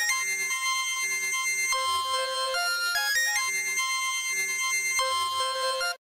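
A bright synthesized lead melody with layered harmonic tones, playing a steady, continuous electronic line with occasional pitch jumps, loud and unaccompanied by voices.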